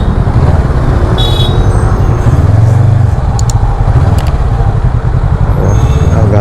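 Monday morning road traffic in Bangalore heard from a Honda NX500 motorcycle, a constant loud roar of engines and wind close around the rider, with faint horn-like tones now and then.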